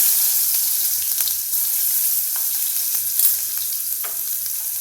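Chopped onion frying in hot oil tempered with mustard seeds and asafoetida, with turmeric, for a safflower-greens dish: a steady close sizzle with scattered small pops and crackles, no talk.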